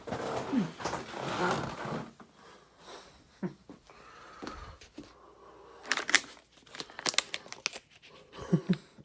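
A plastic bag crinkles and rustles close by in irregular bursts, with sharp crackles and pauses, fairly quiet and with no talking.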